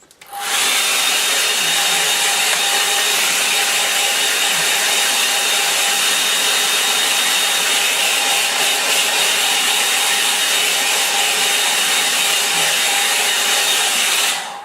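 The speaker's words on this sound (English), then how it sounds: "I'll give that a bit of a dry with a hairdryer now." Hairdryer blowing on wet £130-weight watercolour paper, a loud steady broadband whoosh that switches on and runs continuously without pause for the whole stretch.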